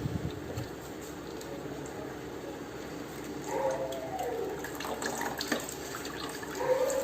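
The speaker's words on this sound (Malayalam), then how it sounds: "ഇതിലേക്ക് നമുക്ക് 1-ാം പാൽ ഒഴിക്കാം" First-extract milk pours into pazham pradhaman, a Kerala dessert of cooked-down banana, milk, jaggery and ghee, making a soft, quiet liquid trickle and splash over steady low kitchen background noise.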